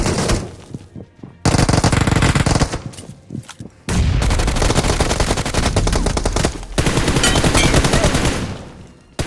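Rapid automatic M4 rifle fire and a grenade blast in BGMI, the mobile battle royale game, with loud sustained bursts of gunfire and a heavy explosion filling the mix, close and dense.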